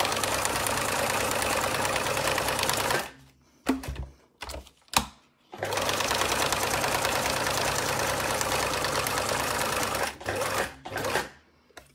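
Steady mechanical whirring and rapid clatter of a sewing machine stitching, running continuously with several brief pauses and short bursts near the end.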